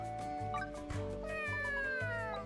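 A cat meows clearly and repeatedly in the video game Fantasy Life, its meows sitting over steady background game music.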